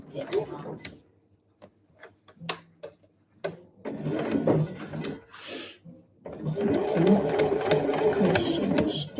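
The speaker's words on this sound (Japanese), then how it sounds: "しっかり指で押さえながらずれないように縫っていきます" Sewing machine stitching a convenience-store-size eco bag, running in short bursts then a long steady run of rapid mechanical chatter, close up, with a voice talking at times between the stitching.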